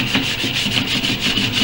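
Steady back-and-forth scrubbing and rubbing inside a steel car transmission pan from a Dodge Dart, close and fairly loud, in continuous rhythmic strokes with no voices.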